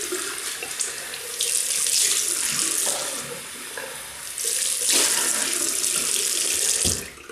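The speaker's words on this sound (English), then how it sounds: "So I'm just going to rinse off." Tap water runs steadily into a sink for a rinse after a wet shave with a Parker 22R double-edge razor, a continuous close splashing hiss that swells louder twice, with no talking.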